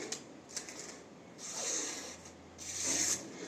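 An N690 steel knife slicing through paper, two short crisp rasping swipes a little over a second apart, close and fairly quiet, with faint rustling between them.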